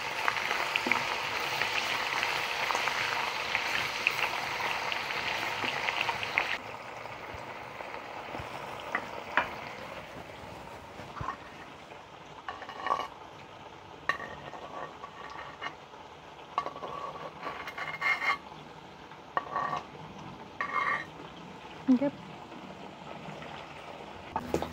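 Chorizo frying in a pan while beans are made, a steady loud sizzle that eases partway through, then continues under intermittent scrapes and clinks of stirring, close up with no voices.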